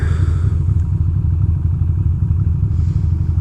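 A motorcycle engine idles close by with a rough, uneven low rumble and a pulsing clatter, running badly throughout with no voices.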